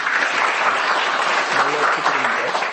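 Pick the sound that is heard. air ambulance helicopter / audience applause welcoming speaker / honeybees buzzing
audience applause welcoming speaker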